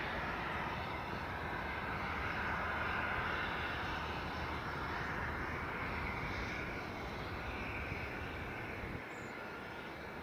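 Small business jet at Edinburgh airport, its engines giving a steady broad roar with a hissing whine on top, fairly distant and sustained throughout, with no talking.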